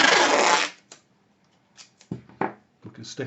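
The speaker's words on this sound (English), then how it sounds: "using our masking tape, we can stick" Masking tape handled while sticking down an A3 sheet of heavy 300 GSM Bockingford watercolour card: a long rasping peel at first, then short crackles and taps, close and alone.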